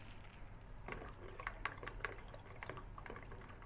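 A pesticide mixture is poured into a bucket and stirred, soft liquid sloshing and dripping with a few splashy spots, quiet and close over low background hum.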